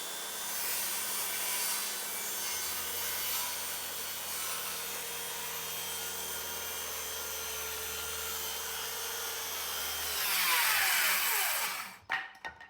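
A handsaw rasps through a wooden roof rafter in steady, close back-and-forth strokes for about ten seconds, then stops abruptly with a few light knocks of wood.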